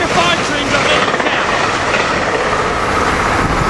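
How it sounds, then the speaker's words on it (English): SEPTA Silverliner 5 commuter train passing a station, a loud continuous roar of rushing wheels and motors filling the whole clip, with a faint rhythmic clack beneath. "All the Silverliner 5 trains are headed south."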